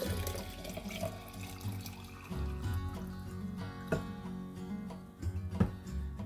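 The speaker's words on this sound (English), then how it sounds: "So what I'm going to do is pour half of this back into my jar" Dandelion infusion poured from a container back into a jar, giving a continuous splashing, trickling stream with a few louder gurgles and drips, close by.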